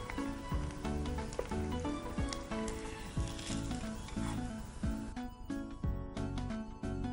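Potatoes frying in refined sunflower oil in a kitchen, a steady crackling sizzle throughout, partly under background music.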